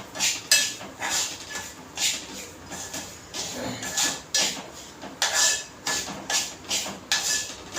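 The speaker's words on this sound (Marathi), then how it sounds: "एक वाटी रवा घेतलाय आपल्याला चांगलं भाजून घ्यायचंय" Semolina roasting in ghee in a pan, stirred with repeated rhythmic scrapes and knocks of a spoon against the metal, close and steady, with no talk.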